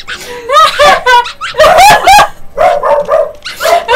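Chihuahuas in Goat Simulator (GoatZ) let out loud, high-pitched yapping barks in quick bursts, close up, with laughter mixed in.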